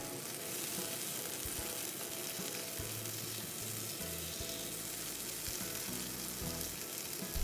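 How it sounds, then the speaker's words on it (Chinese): Thin halibut fillets pan frying in a covered pan, giving a steady, close, continuous sizzle and crackle from start to finish with no voices. "另一面盖盖煎20秒左右，这两块鱼不厚，所以很快熟。"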